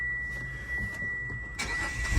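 Mitsubishi Outlander engine with an unhooked coil cranking and catching: a brief whirring crank followed by the engine firing up near the end, fairly quiet and close.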